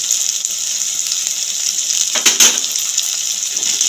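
Coriander, chilli and turmeric powder frying in a pan, a loud continuous sizzle with a brief louder stirring flare midway.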